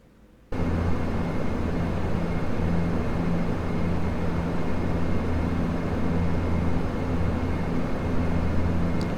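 A steady, droning cockpit hum of an airliner descending toward the runway at LaGuardia, starting abruptly and holding loud and even throughout with no talk.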